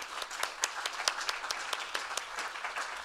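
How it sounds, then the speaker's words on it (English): An audience at an academic conference gives a steady round of applause for the co-organizers, many hands clapping in a brisk, even patter at moderate distance for about three seconds. "Martine and Lynn, please stand so we can give you a round of applause"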